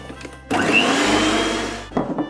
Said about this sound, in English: you're going to use a mixer to beat your egg whites until stiff peaks form